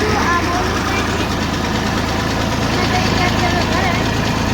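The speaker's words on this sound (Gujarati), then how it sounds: "હાકી રહ્યા છે ટ્રેક્ટર" A tractor engine runs steadily on a farm in Gujarat, a loud, continuous low chugging drone with people talking nearby.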